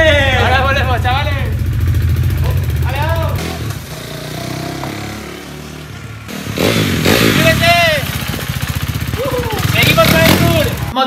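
A motorcycle engine runs indoors in a house's living room, its rough buzzing rumble loud and close, revving in bursts and dropping back to idle while people talk and shout over it.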